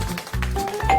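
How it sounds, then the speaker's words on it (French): Doorbell in a home kitchen where a geometric-shapes food challenge is underway, giving a few short tonal dings with a steady faint ringing tone, sounding at moderate level under low background hum. "C'est la sonnette?"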